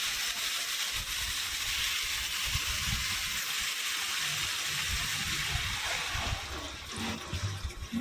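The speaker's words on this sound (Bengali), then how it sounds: "পরিমাণ মতো আমি একটু জল দিয়ে দিচ্ছি ডাল আর চাল কুমড়োটা সেদ্ধ হওয়ার জন্য।" Water pours into a pan of dal and ash gourd set to boil, a steady, fairly soft trickling and splashing that runs the whole time with a few low clinks underneath.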